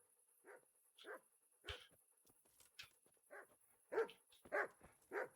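Faint dog barks and whimpers from the medieval video game Kingdom Come Deliverance come in short scattered bursts over a quiet, steady background hum.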